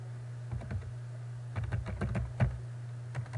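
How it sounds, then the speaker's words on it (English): Quick bursts of typing on a computer keyboard entering a search, light clustered key clicks over a steady low hum, fairly close and soft. "And then we're going to type in here"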